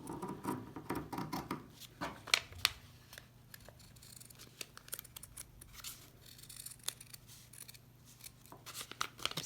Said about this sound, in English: I'm using my scissors and fingers together